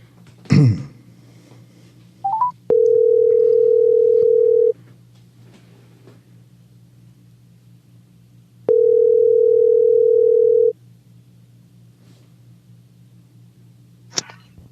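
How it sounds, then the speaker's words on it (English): A steady telephone dial tone sounds on a phone line in two separate bursts of about two seconds each, clear and loud, with a short electronic chirp before the first and quiet gaps between them, no talking. "let me go to the phone line and see if I could get someone else."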